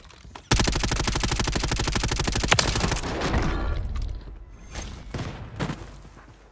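A fast, loud burst of automatic gunfire in Call of Duty: Warzone rattles for a couple of seconds. Scattered mechanical clatter and softer shots follow as the firing fades.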